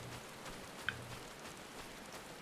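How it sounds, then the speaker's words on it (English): Steady rain falling in Final Fantasy 14, a soft continuous patter with no voices over it. "Hey, it's raining here too."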